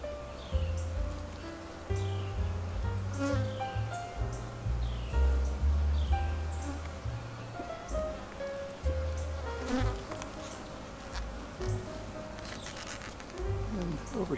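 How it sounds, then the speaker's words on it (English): Honey bees buzz steadily and close around a row of backyard beehives, a dense droning hum with individual insects zipping past the microphone throughout. "most of my bees seem to be over here"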